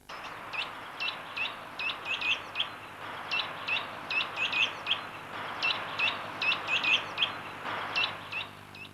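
A treecreeper, a small woodland bird of Britain, gives repeated high, thin whittering calls in short bursts at a steady rhythm, fairly faint against a soft background hiss.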